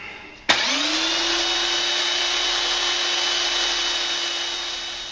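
A belt sander starts up with a sudden onset and runs steadily while grinding a piece of steel file, a loud, close, continuous whine and abrasive rasp that holds without a break.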